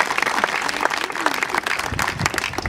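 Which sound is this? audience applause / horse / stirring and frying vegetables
audience applause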